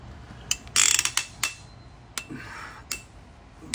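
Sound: ratchet tightening cylinder head bolts on Kia Soul 2.0 engine

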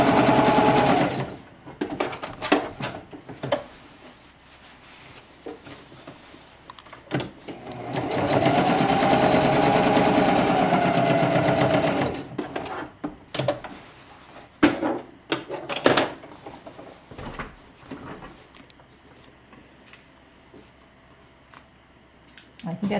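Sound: sewing machine stitching fabric over pins

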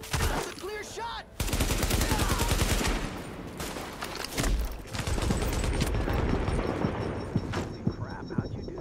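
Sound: gunfire in the video game The Division

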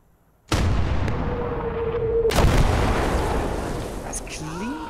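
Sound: artillery shell firing in video game Gates of Hell: Liberation

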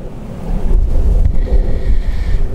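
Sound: wind blowing by the canal

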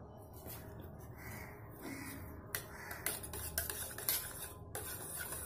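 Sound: stirring ground dal, chilli, ginger and cumin paste into mixture

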